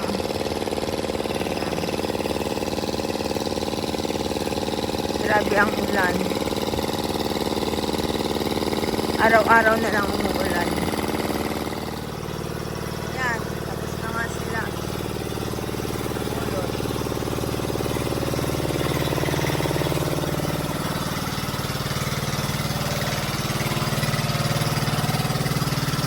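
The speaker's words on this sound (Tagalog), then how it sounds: "May maingay na motor doon na nagpapatubig sila." A noisy motor pumping irrigation water on a rural farm with a duck pen, droning steadily throughout at moderate loudness while someone talks intermittently over it.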